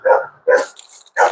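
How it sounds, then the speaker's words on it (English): A dog named Lucy, tussling with a lizard at her water bowl, lets out three sharp, loud barks in quick succession, close by. "Lucy is fighting with a lizard over here in her water bowl, and it's giving her all kind of trouble."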